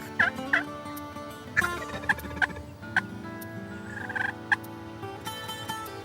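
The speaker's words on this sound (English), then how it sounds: "Though Osceolas are sometimes said to call less than other turkey strains" Osceola wild turkeys gobble repeatedly in Florida, several rattling calls overlapping from different distances, some close and loud, others fainter in the background.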